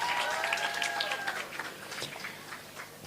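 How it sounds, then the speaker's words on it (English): Graduation ceremony audience applauding, a steady spread of clapping that holds for about three seconds and slowly thins, with a faint whistle-like tone near the start. "A round of applause for them, please."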